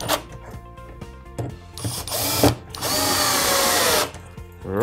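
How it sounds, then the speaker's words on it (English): A power drill drives screws into a pallet-wood bookshelf, with short bursts and pauses, then a long, loud, steady whir, all close up. "ready to drill them down and screw them in"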